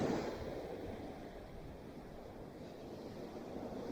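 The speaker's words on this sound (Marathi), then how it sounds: "बघा या लाटा" Sea waves surge along the Mumbai shore as a faint, continuous wash of surf. Wind rumbles against the microphone, and there is no distinct break or crash.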